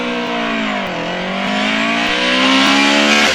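A Mark I Ford Escort with a cross-flow engine races up a hillclimb course, its engine loud and close, revving hard with pitch dips at gear changes before climbing again.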